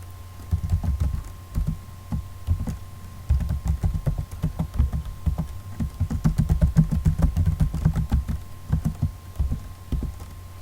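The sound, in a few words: typing a QBASIC program on a computer keyboard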